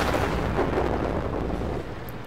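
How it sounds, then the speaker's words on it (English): A massive 152mm tank cannon fires in the World of Tanks game, a deep, broad booming blast with a long rumbling tail that fills the short clip, loud and close with no talk over it. "firing off that massive 152mm cannon"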